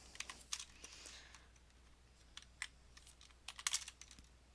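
Python code being typed on a computer keyboard: quiet, irregular clusters of key clicks with brief pauses and a few sharper taps, close and soft, no talking.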